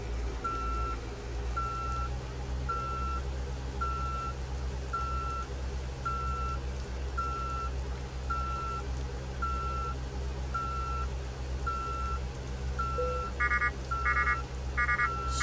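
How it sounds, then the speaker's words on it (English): Truck reversing beeps in Euro Truck Simulator 2: a steady, evenly spaced series of loud electronic beeps over a constant low engine drone, ending in a brief cluster of faster, higher alert tones. "So many things beeping right now."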